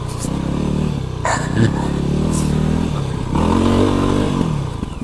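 A Voge 300 Rally motorcycle riding off-road through mud, its engine droning loudly and steadily with shifts in pitch as it revs, plus occasional clattering from the rough ground.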